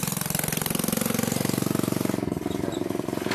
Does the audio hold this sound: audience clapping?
no